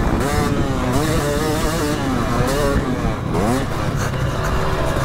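A 450 four-stroke motocross motorcycle engine drones loudly throughout with wavering, rising and falling pitch, while a voice talks over it.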